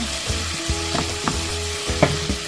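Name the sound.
stir-frying bitter gourd (ampalaya) with egg in a pan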